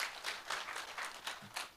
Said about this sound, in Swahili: Simujipigie makofi